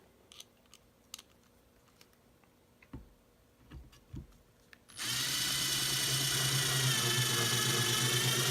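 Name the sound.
driving long screws through wood and foam into table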